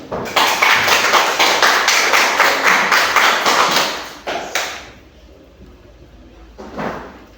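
A classroom group of students claps hands together in a fast, steady burst for about four seconds, then a few scattered claps and faint movement follow.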